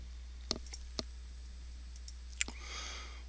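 A computer mouse clicked in quick pairs, sharp dry ticks at close range over a low steady hum, with a faint clatter near the end and no talk.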